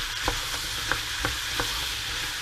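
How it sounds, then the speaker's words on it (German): Potatoes fry quietly in a pot, a soft steady sizzle broken by a few light scraping stirs at regular intervals. "Das Ganze lasse ich jetzt eben ein bisschen anbraten"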